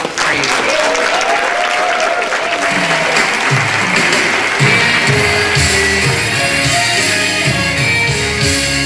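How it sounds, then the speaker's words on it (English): A church congregation at a youth day service gives sustained, loud applause for nearly nine seconds, steady throughout, with instrumental music playing underneath. "could you guys encourage her by giving her a warm and clap of praise?"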